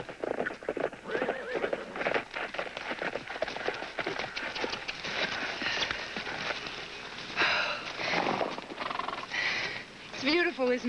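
A horse neighs and whinnies loudly, with hooves clip-clopping and thudding throughout as it moves on an outdoor ride. The sound is close and continuous and carries a film-style mix.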